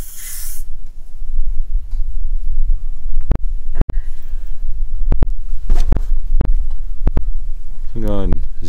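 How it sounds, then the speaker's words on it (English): A Vevor RR500 refrigerant recovery machine purges air from an HVAC line, giving a steady hiss with a near, loud, hollow rush at the start, several sharp clicks and knocks along the way, and a rising whine near the end. "What it's doing is making sure all the air is released out of this line, and out of the recovery machine."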